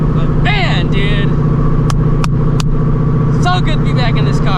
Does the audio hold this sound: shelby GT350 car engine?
yes